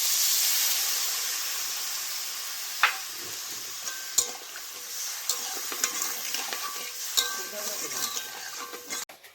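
Water poured into a hot turmeric-spiced paneer curry hisses and steams loudly at first, then settles into a softer simmer broken by sharp spoon clinks and stirring knocks.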